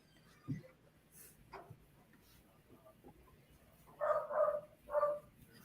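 Several dogs bark excitedly at home, with scattered yips early on and a cluster of three loud, close barks near the end.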